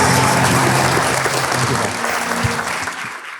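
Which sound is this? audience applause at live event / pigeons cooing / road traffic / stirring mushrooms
audience applause at live event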